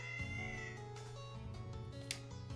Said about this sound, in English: It's another cat.